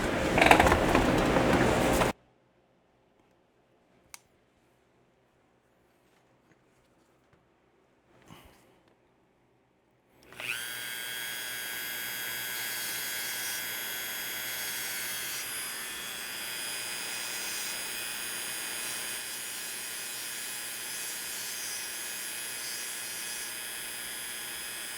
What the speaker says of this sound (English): I'm going to take the Dremel and do some